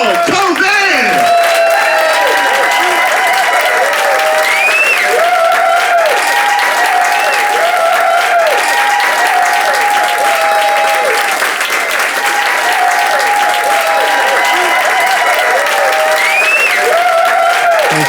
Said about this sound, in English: Put your hands together, keep clapping for Mr. J.L. Cauvin.